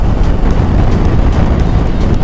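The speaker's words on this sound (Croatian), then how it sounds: "Vjetar još uvijek piri kao blesav" Strong, steady wind buffets the microphone on a road trip past Belgrade toward Golubac, a loud low rumble filling the whole stretch without a break.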